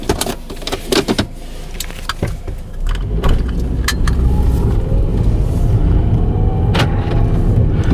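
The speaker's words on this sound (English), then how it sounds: "Let's go ahead and take her for a test drive." A 1999 Volkswagen Beetle 2.0 GLS on a test drive: a few sharp knocks and jangling clicks at first, then a steady, loud engine and road rumble that builds and holds throughout.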